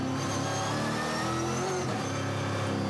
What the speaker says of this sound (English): Downshift for Mitch Evans.